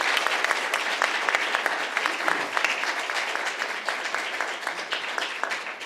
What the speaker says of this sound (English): we owe them and their families a big round of applause for their standing